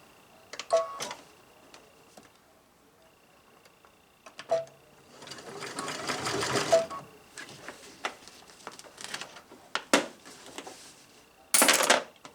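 A sewing machine stitches through several layers of a jute and plastic yard flag, with short bursts of rapid mechanical whirring and clicking set apart by pauses. It is quiet and close, with no talking.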